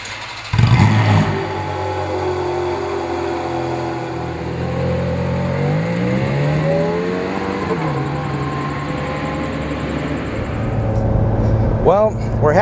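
A 2009 Ferrari 430 Scuderia V8 pulling away on a drive, its engine note climbing steadily through the revs and dropping at a shift before rising again, loud and close from inside the car.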